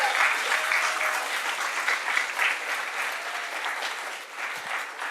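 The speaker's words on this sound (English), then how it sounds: "Please give another round of applause for our incredible panelists." An audience at a metalsmithing conference discussion gives panelists a sustained round of applause, dense and even clapping that continues for about five seconds and tapers slightly.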